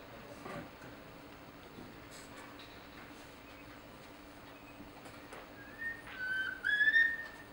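A rising, tonal whistle imitating an antpitta's call sounds near the end, a few short phrases over quiet outdoor background, with faint birdsong-like chirps scattered earlier.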